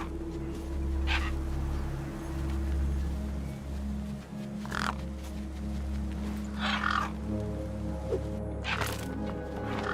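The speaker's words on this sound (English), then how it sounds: "The gang birds were eyeing up the corpse hungrily." Birds caw in the video game Beyond a Steel Sky, four scattered harsh calls, loud and mid-distance, over a constant low droning ambience.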